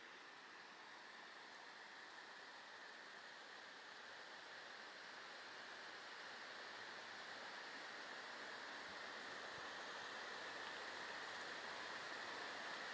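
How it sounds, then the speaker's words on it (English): Water pours steadily from the overspill at the back of a lake at Trentham Gardens in Stoke-on-Trent, a soft continuous rushing wash that stays faint and even and swells slightly toward the end. "enjoy the nice sound of water from the overspill at the back of the lake"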